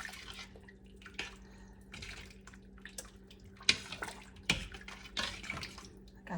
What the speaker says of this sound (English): Let me stir this a minute.